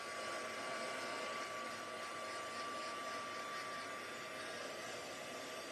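A hair dryer blows steadily at close range over wet blue paint on a handmade pop-up hexagon card, a continuous broadband whoosh with a faint high whine, unbroken for the whole stretch and with no talking.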